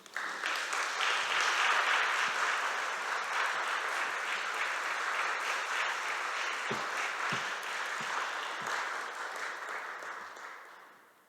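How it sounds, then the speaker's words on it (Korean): A church congregation gives a strong, sustained round of applause to welcome a visiting pastor at a Korean church's 34th anniversary revival meeting in Budapest, holding loud and steady before fading away at the end. "이 시간 우리 이창규 목사님 나오실 때 힘찬 박수로 환영해 주십시오."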